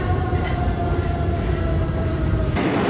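A Paris metro train rumbles steadily underground, a dense, loud roar with a faint high whine, then a sudden shift near the end as the car's sound changes, with no voices.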